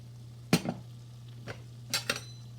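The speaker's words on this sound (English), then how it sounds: "Mix it well one last time and serve it." Spatula scraping and stirring potato-cauliflower aloo gobi in a pan, a few separate clinking strokes against the metal over a steady low hum, with no voices.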